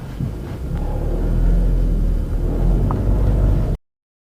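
Heavy road traffic passes near the Hollywood hills as a continuous low engine rumble with cars rolling by close at hand, holding steady before cutting off abruptly.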